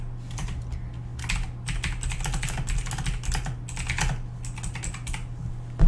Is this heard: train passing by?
no